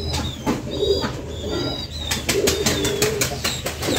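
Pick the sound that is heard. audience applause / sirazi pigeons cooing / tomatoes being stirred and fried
sirazi pigeons cooing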